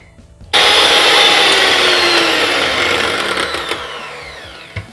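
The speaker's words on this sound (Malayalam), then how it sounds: "എന്നിട്ട് ഒന്നും കൂടി നല്ലോണം ബീറ്റ് ചെയ്യണം" An electric mixer switches on abruptly and beats a sugar mixture for a tres leches milk cake, a loud, steady, high whirring hum that holds for several seconds before slightly easing, with no speech.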